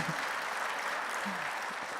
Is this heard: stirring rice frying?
no